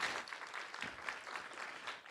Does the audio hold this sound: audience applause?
yes